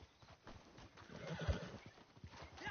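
A video game horse whinnies in a rising, shaky call while hooves clop rhythmically underneath, fairly quiet and close.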